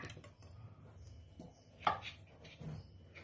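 Som tam papaya salad being pounded, with faint, irregular thuds and a couple of sharper knocks in a quiet room.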